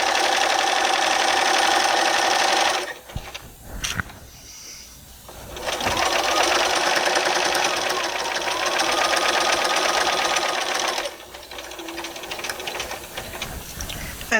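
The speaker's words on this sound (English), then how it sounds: "I'm coming to the end of sewing the second side" A sewing machine stitches the side seam of a torn bed sheet, loud and close, in two long steady whirring runs separated by a brief pause, then a quieter, lighter stretch at the end.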